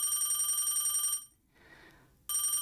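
A telephone rings in the Dreambound video game, with a loud, steady electronic bell trill that cuts off for about a second and then starts ringing again.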